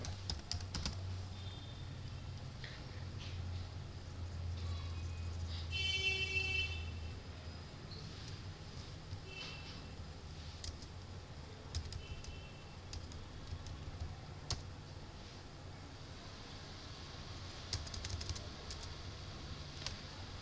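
Soft computer keyboard typing comes in scattered, faint clicks over a steady background hum, with a brief louder tonal blip early on and no speech.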